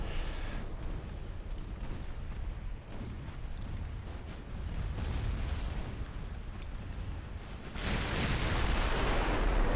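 Continuous heavy battlefield rumble with artillery fire landing close by in a naval strategy game set around Scandinavia, a dense roar of booms that swells louder near the end.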